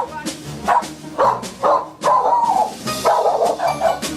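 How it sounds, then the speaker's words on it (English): A pet dog barks again and again at an elderly woman using a walker, sharp yaps and bow-wows repeating in uneven bursts at close range, with a few whimpery notes mixed in. "she will bark at my mother incessantly."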